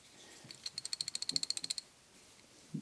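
A titanium 1/4 inch hand driver snugging a bit down, giving a quick run of about a dozen crisp ratcheting clicks at an even pace, close and fairly quiet, with near silence before and after.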